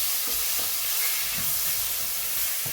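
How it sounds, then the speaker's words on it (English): Steak sears in a really hot pan, giving a loud, dense, continuous sizzle and hiss that fills the space up close, with faint shifting crackles beneath it. "we're searing the steak finally in a really hot pan"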